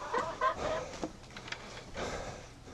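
Small hens about ten to eleven months old cluck in a series of short, close calls over a faint background, with no talking.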